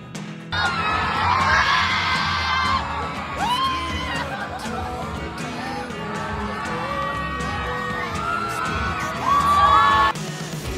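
A party crowd screams, whoops and cheers loudly as Bea Alonzo dances to a song, with high excited yells rising over thumping music and swelling again near the end.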